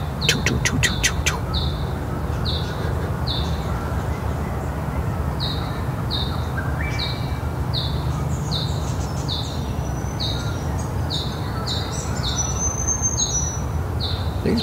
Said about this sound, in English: like the wattle bird.